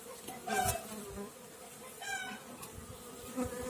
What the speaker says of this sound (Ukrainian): Маса бджоли також, в принципі, є.